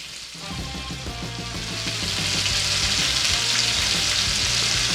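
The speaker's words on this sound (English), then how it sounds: "let me finish searing these up on this side" Bacon-wrapped filet mignon steaks, the bacon held on with toothpicks, sear in a hot pan with a steady, close sizzle that grows louder and more intense partway through and then holds, with no talking.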